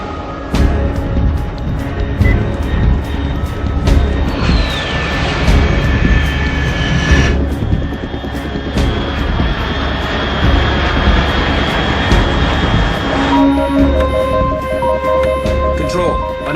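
An aircraft flying overhead in the video game Metal Gear Solid 3, a loud sustained engine roar and whine with shifting tones, mixed with game music and effects.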